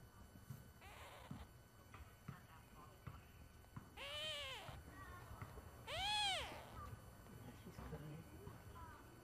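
A kitten born with two faces gives two clear, rising-and-falling meows close by, with people talking quietly around it.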